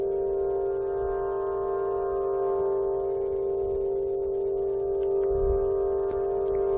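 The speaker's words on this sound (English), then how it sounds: "what you're hearing is an Aeolian harp, wind harp, placed in the center of Stonehenge on a summer solstice." An Aeolian wind harp stands in the center of Stonehenge on the summer solstice. It gives a steady, sustained drone of layered harmonic tones that holds throughout, with faint low wind rumble underneath and no voices.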